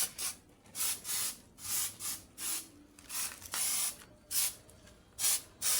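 Insecticide spray sprayed on a mass of cockroaches in a sack, heard as about a dozen short hissing bursts in an irregular rhythm, loud and close, with no talking.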